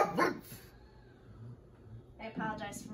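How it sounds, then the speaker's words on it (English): A dog barks a couple of times close by, with short sharp yips at the start and again near the end, while a person talks in between. "apologize for my dog, Cassie."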